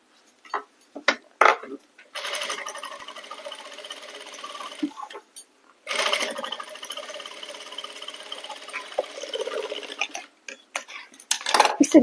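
A sewing machine stitches a salwar mohri (hem) design with the cloth laid over a foam base. Two long runs of rapid, rattling stitching sit close to the microphone, with clicks and fabric handling before, between and after them.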